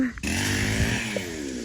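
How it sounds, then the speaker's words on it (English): A chainsaw runs steadily outdoors near a fenced farm where goats have escaped, a continuous loud droning engine whine filling the clip after a brief cut-in at the start. "So we'll see if the boys find them first or if the chainsaw calls them up."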